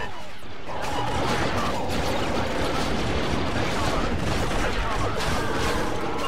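Continuous loud gunfire and blaster shots in a Star Wars Battlefront 2 battle on Dagobah, a dense barrage of overlapping shots and impacts running throughout with speech mixed in.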